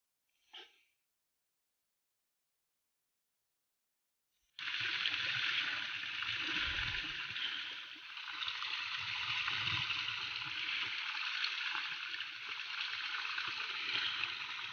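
A forest stream flows steadily at a moderate distance, a constant rushing, gurgling wash that begins after a short, faint sound and several seconds of near silence.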